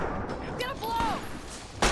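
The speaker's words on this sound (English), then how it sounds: "Are you throwing grenades, Veronica?" Booming grenade blasts in Fallout New Vegas rumble and thud under game effects and speech, with a sharp loud burst at the very end.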